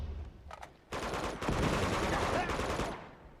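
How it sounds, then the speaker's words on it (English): Rapid bursts of M4 rifle fire in the video game Uncharted 2, a short burst followed by sustained loud automatic gunfire that tapers off near the end. "M4 is definitely a lot better weapon."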